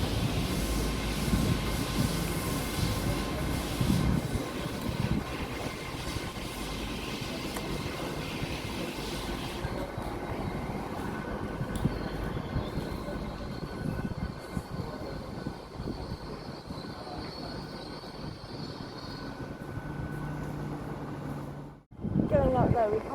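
A Class 802 train pulls out of Hereford station toward the diesel sidings, a long rumbling engine drone with rail noise that slowly fades as it moves away, with voices briefly heard.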